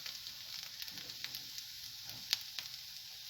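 Mushrooms, already dried of their water, fry in two large ladles of oil with a soft, steady sizzle, faint and close, with a few tiny pops and scrapes and no voices.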